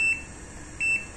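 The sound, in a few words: multimeter (AVO) continuity buzzer beeping while checking contactor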